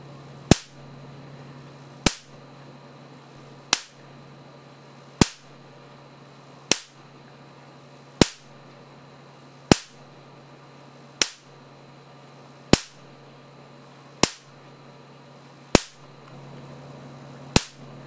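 A Marx generator fires high-voltage spark discharges across a 13 cm electrode gap, sharp loud cracks at a steady rhythm about every one and a half seconds over a low electrical hum, with no talk.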